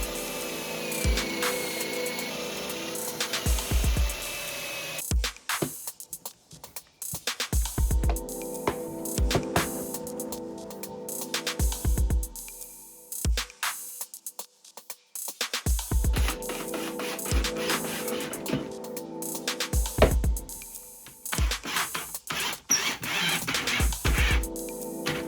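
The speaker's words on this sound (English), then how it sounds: "Let's get putting some pocket holes in and let's get screwing it together" A power drill bores pocket holes and drives special pocket screws into a long wooden bench seat for a Mazda Bongo, loud whirring bursts broken by short pauses and a few clunks, close up with no talk.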